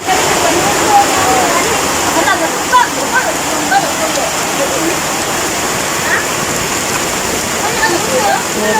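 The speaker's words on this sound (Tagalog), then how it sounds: "Grabe ka kusog sa ulan." Heavy rain pours down in a dense, steady roar with splashing water throughout, loud and close, with no pause in the downpour.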